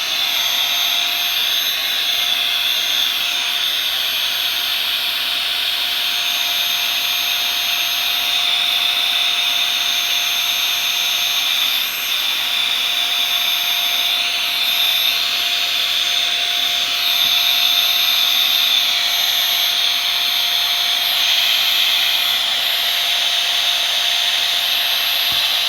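Portable mini air pump inflating a ring, a loud, steady, high-pitched whirring hum that runs nearly unchanged for about 25 seconds, with slight shifts in tone; no talk.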